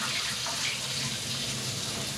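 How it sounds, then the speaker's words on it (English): Steady water runs from a kitchen tap during rice washing, a continuous even splash with no talking over it. "so you wash it until it's nice and clear"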